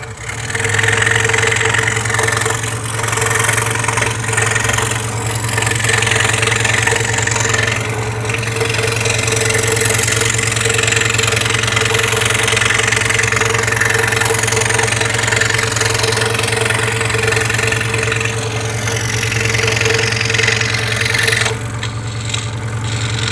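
A scroll saw cutting a wooden portrait piece, with a steady motor hum and a continuous buzzing, rasping blade sound that runs almost unbroken until it stops near the end.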